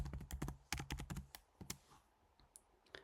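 Bursts of quick clicking keystrokes on a computer keyboard, close and fairly loud, in irregular clusters that thin out toward the end, with no talking.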